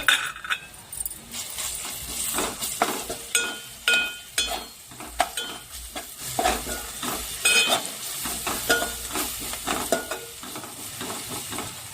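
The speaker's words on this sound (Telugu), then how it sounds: "రొయ్యలు అయితే వేసేసుకుందాం ఇంకా ఇది రొయ్యలు అయితే వేస్తున్నాం" Prawns frying in a pan with turmeric, a steady sizzle broken by repeated sharp stirring scrapes and metallic clinks of a utensil against the pan, close and fairly loud with no talking.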